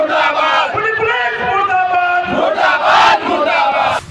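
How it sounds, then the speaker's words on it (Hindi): A crowd of thousands chants slogans against the Khunti police at a street protest, a dense, loud roar of many voices with rhythmic shouted phrases swelling throughout. "हजारों की भीड़ खूंटी पुलिस मुर्दाबाद का नारा लगा रही है"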